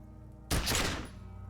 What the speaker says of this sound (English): I just shot the guy.